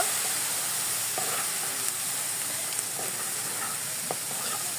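Spice masala with fried onion and red chilli powder sautés in a pan with a constant soft hiss, plus a few faint scrapes of stirring.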